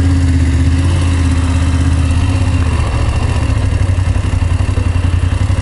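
A BMW F850GS motorcycle engine runs steadily and loudly up close, being checked for an abnormal noise, with a deep, even drone and a slight shift in tone partway through.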